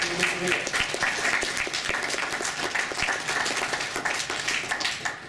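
An audience at a talk applauds steadily, a dense patter of many hands clapping at an even, moderate level from start to finish, with no voices standing out.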